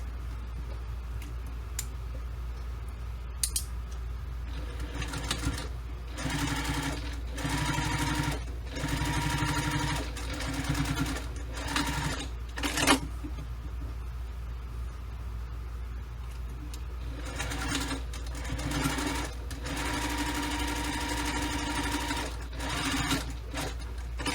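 A sewing machine top-stitches a business bag exterior an eighth of an inch from a folded edge, running in close, rapid bursts of stitching broken by short pauses.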